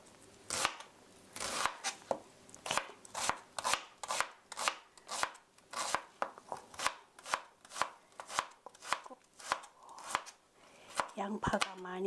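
Rapid, steady knife chops dicing onion on a cutting board, sharp regular thuds repeating about twice a second, close and loud, with a brief rustle near the end.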